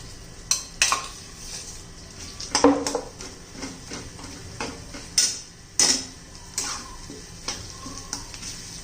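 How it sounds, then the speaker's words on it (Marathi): Potatoes with ground masala being sautéed in a pan over a low flame for a potato and black-eyed pea curry: a spoon scrapes and clinks against the pan in irregular bursts over a faint, steady sizzle, with no talking. "आता 2 मिनटं मी चांगलं बटाटा याच्यामध्ये परतून घेते."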